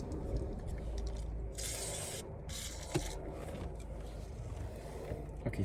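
A can of WD-40 hisses in short spray bursts, fairly close, as it lubricates the stuck rear seat mechanism of an L322 Range Rover, heard against steady low background noise.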